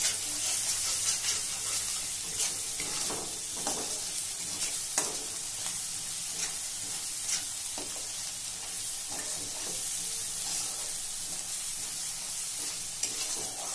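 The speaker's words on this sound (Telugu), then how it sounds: "కొద్దిగా మిర్చి పౌడర్ ధనియా ఇట్లా వేగాలండి ఆయిల్లో" Chili powder and coriander fry in hot oil for palak paneer, a steady close sizzle running throughout with occasional scraping stirs of a spoon in the pan.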